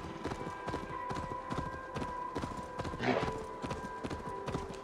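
A horse ridden in Assassin's Creed Valhalla gallops with a steady, rapid clip-clop of hooves, close and even, with a brief whinny partway through.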